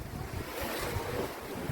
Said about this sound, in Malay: Depan dengan laut, tepi laut lah.